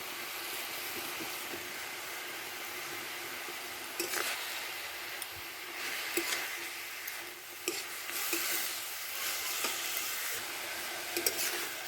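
Leafy winter greens fry in a pan with beans that were fried earlier, giving a steady hiss of sizzling oil broken by scattered scraping and stirring clicks, with no talk.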